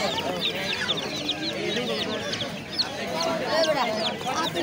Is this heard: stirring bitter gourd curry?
no